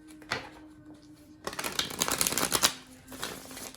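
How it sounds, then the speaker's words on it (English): A deck of tarot cards is shuffled for a reading: a brief riffle, then a longer burst of rapid crisp flutters, a pause, and another short riffle. "One more shuffle."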